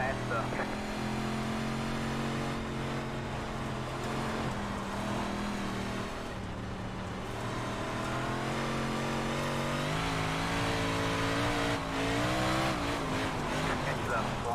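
Race car engines roar in a racing video game with outlaw and big-block cars, a steady close drone that rises and falls as the cars accelerate, with a voice talking over it.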